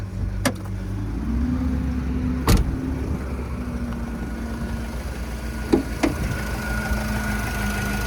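A 2010 Renault Trafic 2.0 diesel van engine idles with a steady low rumble, punctuated by a few sharp clicks and knocks nearby.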